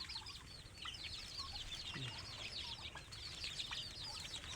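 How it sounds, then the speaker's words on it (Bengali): Many free-range native chickens cluck and chirp together outdoors while feeding, a steady busy chatter of a flock with a constant background hum and no talking. "এদিকে দেশি মুরগি ছাড়িয়ে দিছি, নিজেরা ইচ্ছা মতন খাবার খাইতে আসছে"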